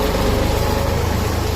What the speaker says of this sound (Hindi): ये ट्राली ट्रैक्टर भी उसी हाउसिंग सोसाइटी के पास जा रहा है।